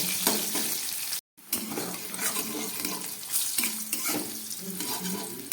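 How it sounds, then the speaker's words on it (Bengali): Sliced bitter gourd frying in oil in a pan with a pinch of salt, a steady close hiss and crackle with stirring scrapes, broken by a brief silent gap near the start. "উচ্ছেগুলোকে এবার খুব ভালো করে আমি ভেজে নেব"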